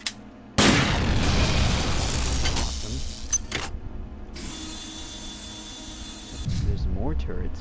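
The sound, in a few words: laser turret shooting lasers in System Shock 2 video game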